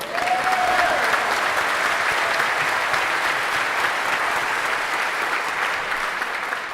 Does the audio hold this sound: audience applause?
yes